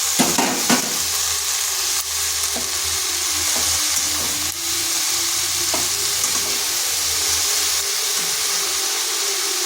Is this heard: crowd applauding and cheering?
no